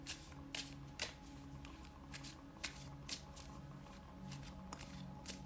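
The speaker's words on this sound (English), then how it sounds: "let me pull another card right quick" Tarot cards being shuffled and drawn from the deck: a close, dry run of riffling and slapping card bursts in an irregular rhythm, with no one talking.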